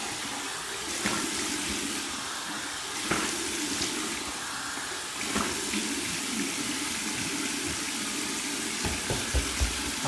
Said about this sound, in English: I'm gonna flip it over to the cold side now. Do my cold water rinse.